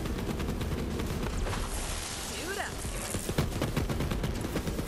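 Gunfire bursts in the video game Borderlands 3 come as rapid, repeated loud cracks in a fusillade, with booming impacts and a brief rising whistle mixed in, and a voice exclaiming over the action.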